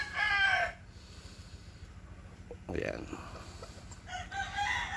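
Chickens and a rooster on a farm where fowl are bred for fighting: two loud, close crows open and close the clip, with a brief cluck between, over a quiet background and a short spoken word.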